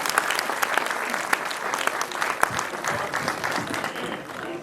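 An audience at a mushaira breaks into sustained applause, a dense, even wash of many hands clapping with scattered sharper claps standing out throughout.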